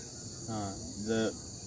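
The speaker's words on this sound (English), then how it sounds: "An insect making noise?" Insects chirp outdoors in a steady high drone, with two short, slightly louder calls rising over the faint background.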